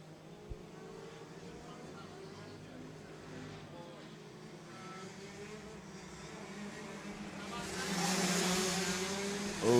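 Rotax racing karts on a track at Jupiter, Florida, their engines buzzing faintly and far off, then swelling louder near the end, beneath continuous race commentary.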